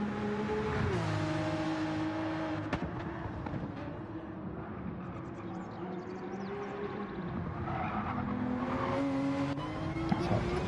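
Race car engine during an onboard lap in an Infinity series race, a steady loud drone with shifting pitch as it accelerates and brakes through corners, continuous throughout.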